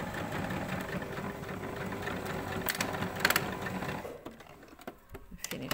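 A sewing machine topstitches along the edge of a corset, a steady close mechanical whir that runs for several seconds, then breaks into a few short bursts as the machine slows to a stop.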